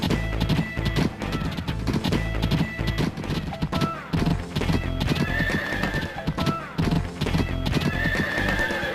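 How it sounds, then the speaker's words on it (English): Galloping horse hooves clip-clop in a fast, steady rhythm from a Nintendo Switch riding game, with occasional whinnies over looping game music, loud and continuous. "I just get to ride my horse around"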